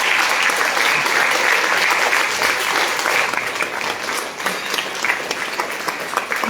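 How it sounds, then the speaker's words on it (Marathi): An audience at a live music concert bursts into loud, sustained applause, the dense clapping holding strong throughout before easing slightly toward the end. "क्षितिजाच्या आईबाबांसाठी आणि तिच्या यजमानांसाठी पण एकदा जोरदार टाळ्या वाजवूया."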